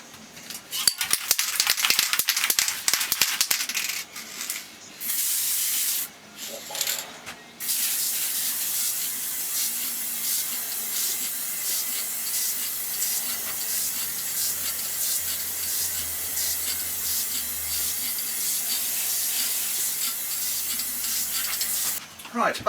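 Steady hissing spray of gloss coat onto wood veneer, a loud continuous mist after some short bursts and pauses at the start, close by.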